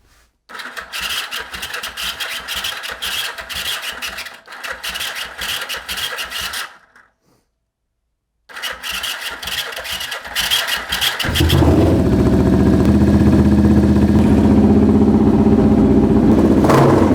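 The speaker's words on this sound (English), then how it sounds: "I probably don't even have to get on it to start it. Probably just hit the starter button." A Yamaha XS 500 motorcycle in a garage turns over on the electric starter in two loud cranking bursts separated by a pause. The engine then catches and settles into a steady, close, rumbling idle.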